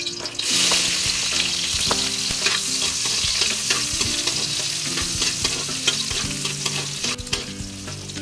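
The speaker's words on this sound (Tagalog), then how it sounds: "Yung ginisang pinagsamang luya, bawang, sibuyas" Ginger, onion and garlic sauté together in a pan as the base for chicken feet adobo, producing a loud, close, continuous sizzle with stirring clatter over faint background music.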